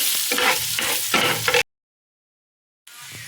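Cinnamon stick, cardamom, bay leaf and cut green chili sizzle in hot oil for Paneer Butter Masala, with stirring scrapes, then a stretch of silence before the frying resumes.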